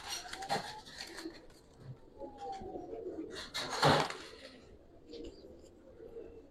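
Giribaz pigeons cooing softly at close range, low murmuring calls scattered through the clip with some background rustling and a brief louder burst midway.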